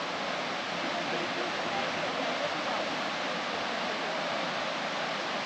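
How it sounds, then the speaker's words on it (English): Burden Falls, a tall free-falling waterfall in Southern Illinois, gives a constant, even hiss of falling water that holds steady throughout with no breaks. "They say Burden Falls is the tallest, I guess, leveled waterfall."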